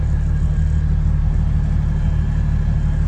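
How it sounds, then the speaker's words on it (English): A 1989 Toyota Supra MK3 with the 7M-GTE engine idles steadily, a loud, even low rumble with a faint constant whine running unbroken throughout. "now it's actually idling super great"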